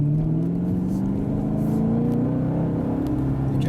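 Chevrolet Camaro SS convertible with a V8 and six-speed manual drives along, its engine a steady, loud droning rumble with a slowly rising pitch as it pulls through a gear.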